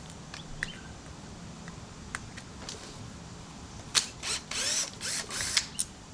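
Faint ratchet clicks and short mechanical whirs sound while screws are removed from a window motor on a 1998–2001 Subaru Impreza, with soft ticks early on and a denser cluster of buzzing turns near the end.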